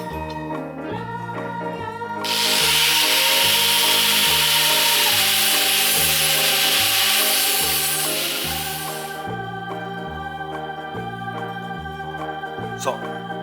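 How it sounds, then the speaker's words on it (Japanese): A grinder sharpens a wooden stake to a point in a loud, steady burst lasting about seven seconds, heard over a constant low background drone with a rhythmic pulsing pattern. "ちょっとグラインダーでとがらしました。"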